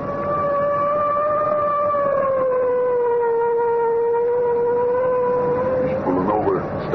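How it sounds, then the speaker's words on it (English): A car siren in an old-time radio crime drama wails loud and continuous, a sustained steady tone that slowly sags in pitch, with a brief voice breaking in near the end. "I guess it's time to sound the siren."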